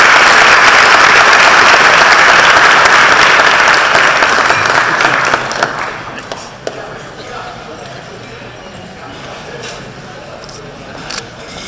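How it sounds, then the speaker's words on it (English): Loud, dense applause from a large audience at a chamber of commerce annual meeting fills the first half, then fades to scattered claps and a quieter room. "So please join me in a round of applause for our MC today."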